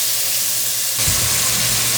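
Onion and tomato sautéing in a pan for a Kerala-style vegetable kurma, a steady close sizzle of frying that grows louder and busier halfway through, with a soft stirring clatter.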